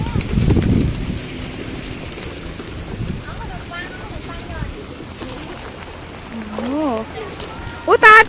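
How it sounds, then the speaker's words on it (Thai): Pigeons coo and call in short, rising-and-falling bursts through the clip, with wind or rain-like noise in the background and people speaking nearby. "นี่นะคะนกพิราบ"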